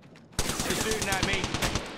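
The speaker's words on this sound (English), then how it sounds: "They're shooting at me." Rapid automatic gunfire from the video game Apex Legends bursts in suddenly after a brief quiet moment and rattles on loud and fast for the rest of the moment, with a faint voice underneath.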